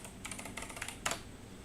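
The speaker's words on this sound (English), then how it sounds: "Oh, gotta type in the password." A short burst of quiet, close keystrokes as a password is typed on a computer keyboard, several quick taps followed by a firmer final press.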